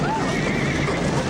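A horse whinnies in a brief rising and falling call over a dense, noisy background, with a voice faintly mixed in.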